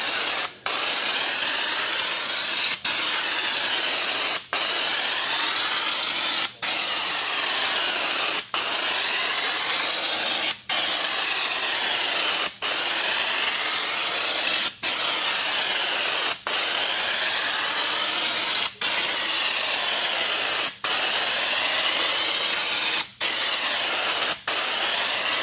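Continuous spray gun hiss applying Raptor bed liner coating in a heavier texture, loud and steady, broken about every two seconds by brief trigger releases.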